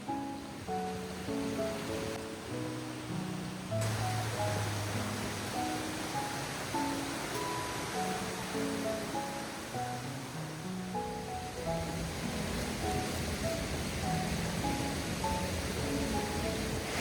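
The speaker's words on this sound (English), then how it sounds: "Pretty streams around here, man." A stream flows beside a hiking trail on the Chuck Keiper Trail, a steady broadband rush of water running continuously and fairly close. Faint musical tones sit underneath.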